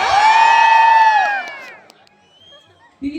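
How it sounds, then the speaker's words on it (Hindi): A large crowd lets out a loud, sustained collective whoop and cheer at a stage event at the Borani Kauthik fair in Uttarakhand, holding for about a second and a half before fading to quiet. "उत्तराखंड वालों थोड़ा शोर हो जाए। इतने से भी नहीं होगा, शोर होना चाहिए।"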